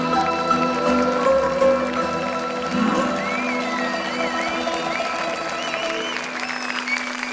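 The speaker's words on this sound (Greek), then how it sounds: "Ευχαριστώ το μεγάλο χειροκρότημα" A large outdoor audience applauds after a song at a concert in the ancient theatre of Dion, a steady dense wash of clapping that fades slowly while sustained musical tones ring underneath.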